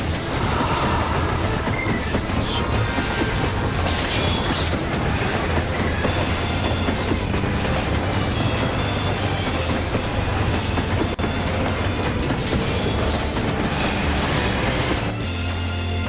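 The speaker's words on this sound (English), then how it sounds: "So this is an actual boss fight in an MMO, and we're running on top of a train." Train rumble and rhythmic clatter in a Final Fantasy XIV boss fight fought atop a moving train, loud and continuous, layered with dense game music and effects, with no talking.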